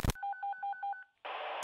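A phone keypad dials a quick run of six evenly spaced touch-tone beeps for an anonymous call, each a clear paired tone, followed by a loud steady hiss after a short gap, with a sharp burst at each end.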